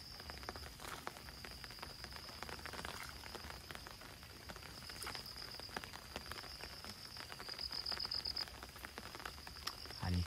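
Rain falls steadily beside a stream in a soft, continuous patter with scattered drops and a faint high insect-like tone, quiet and even throughout.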